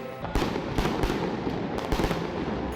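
Fireworks explode at a Winterfest celebration, a loud rapid series of booming bursts and crackles overlapping one another with no talk.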